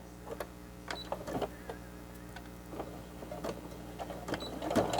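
A sewing machine stitches a fabric face mask in quick, irregular bursts of mechanical clatter and ticking, close and fairly quiet.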